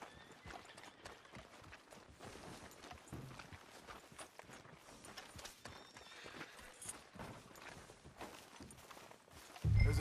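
In the video game Red Dead Redemption 2, a horse walks with faint, steady hoof clip-clops under a busy, noisy town ambience, and a short louder thump comes at the end.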